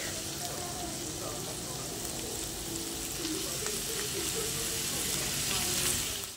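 Ground pork frying in a pan with only a little oil, giving a steady, dense sizzle and crackle that runs unbroken from start to finish and swells slightly toward the end.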